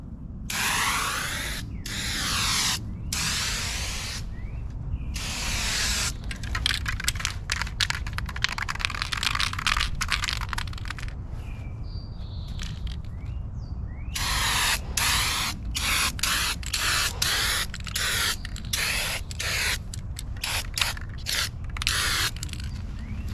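A spray gun hisses in repeated bursts while painting a car at home, loud and close, with short pauses between passes and faint mechanical clicks.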